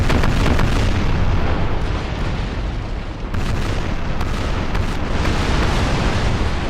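Naval cannon fire during a sea battle in the video game Napoleon Total War, dense overlapping booms and rumbling blasts forming a loud, continuous barrage.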